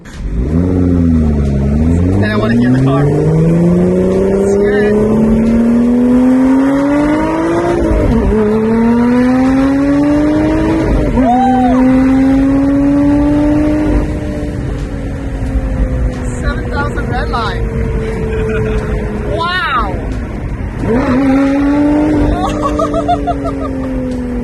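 A Lotus Evora revs hard and accelerates through several gears, each rising engine sweep cut by a shift. It is loud and close from the cabin, with excited talk and laughter over it.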